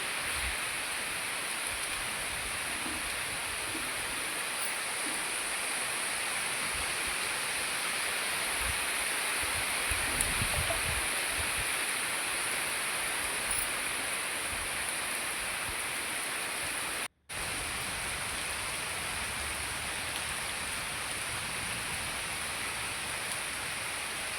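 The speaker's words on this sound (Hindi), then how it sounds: "बारिश को देखने के लिए मैं भी शाम को बैठ गई हूँ" Steady rain falls in the evening, heard from a veranda as a dense, even hiss that continues unbroken apart from one brief dropout, with no voices.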